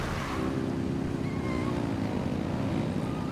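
Steady boat engine drone from a motorboat in Genshin Impact, a continuous low rumble with splashing water noise, loud and unbroken throughout.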